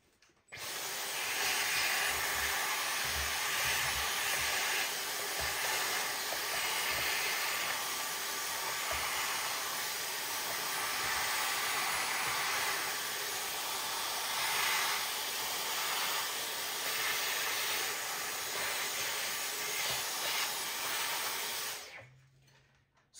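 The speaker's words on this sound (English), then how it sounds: "I am just going to actually quickly vacuum the internals and clean up the edge" A vacuum cleaner sucks sawdust from inside a guitar body, a steady loud whooshing drone that runs continuously for about twenty seconds before cutting off at the end.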